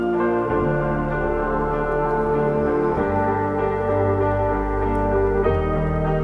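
Layered synth parts of a track play together as one dense sustained chord pad, with no drums and sharp changes at roughly three-second intervals.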